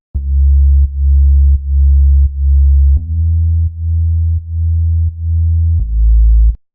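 A synthesized sine-wave sub bass plays a run of deep, smooth sustained notes, each held for just under a second with brief gaps, pitch dropping partway through, clean and alone.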